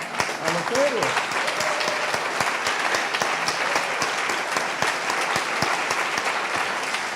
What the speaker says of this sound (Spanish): Aplausos a los héroes.